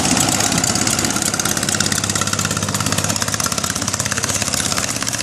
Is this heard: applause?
no